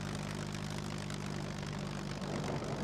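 Steady, loud drone of a propeller airplane engine in the survival game SCUM, continuous and even with a low humming throb throughout, no voices.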